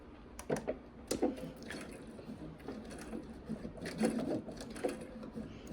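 A sewing machine back stitches through quilt binding in short quick bursts of rapid mechanical clatter, close and fairly quiet, with brief pauses between runs.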